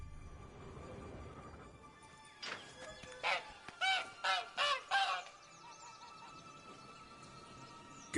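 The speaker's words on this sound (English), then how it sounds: "Poor goose." A goose honks in The Witcher 3: Blood and Wine, about half a dozen loud, close honks in a quick, uneven run over a quiet ambient background.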